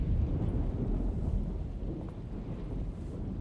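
Stormy ambience from the video game Alone in the Dark (2024): a steady, continuous low rumble of wind and rain with distant thunder rolling underneath, holding at an even level throughout.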